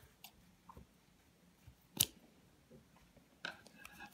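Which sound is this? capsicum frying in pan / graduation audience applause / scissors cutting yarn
scissors cutting yarn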